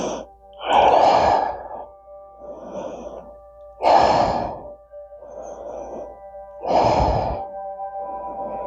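Slow, deep breaths during a side-lying tree yoga pose, each loud inhale or exhale followed by a softer one in a steady rhythm, close to the microphone.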